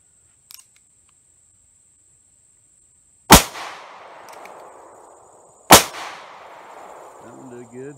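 Two sharp, loud gunshots from a .38 Special Rohm RG 17 derringer crack a couple of seconds apart outdoors, each followed by a short ringing decay, with a faint click before and a voice at the end.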